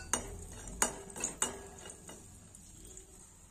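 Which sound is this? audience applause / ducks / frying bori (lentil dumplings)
frying bori (lentil dumplings)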